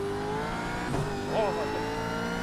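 Supercars racing side by side in a driving game, engines droning steadily with a brief rising skid-like squeal as both cars nearly spin, under a commentator's voice.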